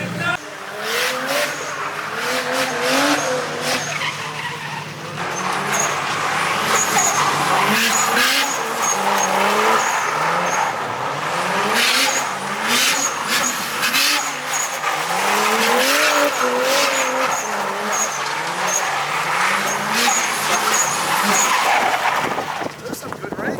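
A car engine revs hard and loud with squealing tires as the car does donuts, rising and falling in repeated cycles as it spins, with voices talking over it throughout.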